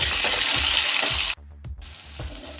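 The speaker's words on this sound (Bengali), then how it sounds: "এই আলুটা একটু ভেজে নেব।" A boiled potato fries in hot oil, a dense bright sizzle up close that suddenly drops off partway through, leaving quieter bubbling and a few soft taps.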